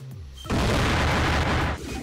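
The Mud Bomb attack in Pokemon Quest lands as a single loud, dense burst that lasts about a second, with a brief quieter tail after it.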